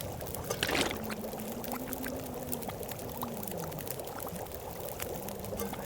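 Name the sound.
water being poured in The Long Dark video game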